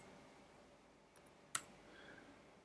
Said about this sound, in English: I click the mouse once to establish the center point, again to establish the outside edge